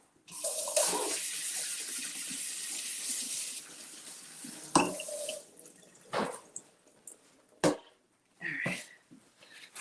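Baby portobello mushrooms are rinsed under a running kitchen tap, a steady close hiss of water, then intermittent splashes and drips as the flow is interrupted.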